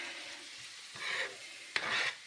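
Sautéed vegetables for borscht stirred in a pan, two soft scraping sweeps of the spoon over a faint, steady sizzle, close and quiet.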